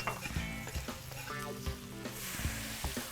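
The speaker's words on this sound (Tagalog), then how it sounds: "sasankutsa ko muna to ng maigi. Papalabasin ko muna yung oil niya." Pancit ingredients sauté in hot oil, giving a continuous loud sizzle and crackle with bursts of stirring scrapes throughout the short stretch.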